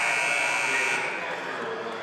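A loud, steady electronic buzzer sounds the end of a half in a high school girls' basketball game between the Taylorville Tornadoes and Charleston Trojans, droning continuously for about two seconds over gym crowd noise.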